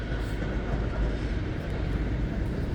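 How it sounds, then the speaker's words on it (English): A train passing nearby, a loud steady low rumble and rolling roar that holds evenly throughout, with no voices over it. "Train over there."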